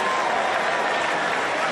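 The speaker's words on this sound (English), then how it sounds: "applause for those talented Knicks City kids." A large crowd at a Knicks NBA championship parade in New York City applauds and cheers, a loud, dense, unbroken wash of clapping and crowd noise filling the whole moment.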